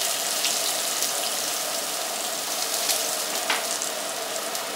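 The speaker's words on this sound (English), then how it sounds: "for the onions, which I'm going to caramelize slowly under very low heat" Onions caramelize slowly over very low heat in a pan, giving a steady, close hiss and light crackle throughout with no talk.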